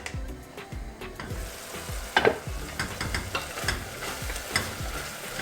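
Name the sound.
stirring tomatoes frying in a pan for tadka dal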